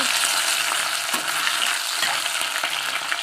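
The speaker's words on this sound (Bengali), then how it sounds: "এখন আমি মাংসটা বসিয়ে দিচ্ছি" Meat sizzles loudly in a hot pan of oil and spices as it goes in, a steady dense crackle with a few sharper spits and scrapes, no voices over it.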